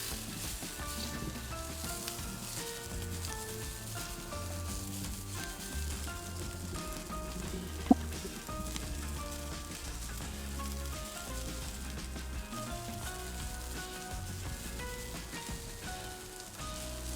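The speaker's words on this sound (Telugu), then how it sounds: "ఉల్లిపాయలు కట్ చేసి వేయడం." Two large chopped onions with green chillies sizzle gently in a pan for black sesame chicken curry, a soft, steady frying hiss with one brief click partway through and no voices.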